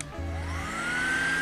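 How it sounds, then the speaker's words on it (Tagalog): An electric fan runs off a portable power station, a steady whirring hum whose pitch rises slightly as the motor spins up, close and continuous with no talk. "walang daya yan. Gumagana, electric fan."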